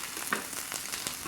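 Chorizo and potatoes fry in a pan over moderate heat, a soft, quiet sizzle with small pops and crackles, heard alone.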